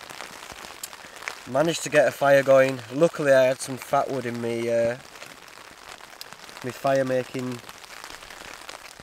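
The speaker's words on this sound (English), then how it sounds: "As you can maybe hear, it is raining." Steady rain patters on a campsite during a windy solo camping trip, a soft continuous hiss under someone talking close by.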